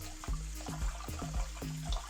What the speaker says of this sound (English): Run it through some cold water